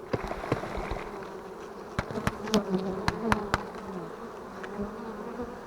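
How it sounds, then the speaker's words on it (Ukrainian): Honeybees buzz in a dense, droning hum close by as a swarm is shaken into a hive, with scattered knocks and thumps over the steady swarm. "І тепер бджоли в вулику"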